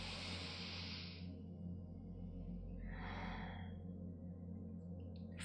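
A deep breath taken close up, with a long inhale followed by a softer exhale, faint over a steady low hum.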